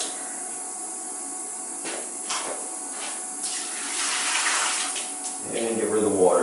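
Water gushes and splashes as it is dumped from a household water filter housing onto a floor drain, starting with light trickles and building into a steady pour at close range.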